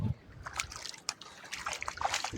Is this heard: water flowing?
yes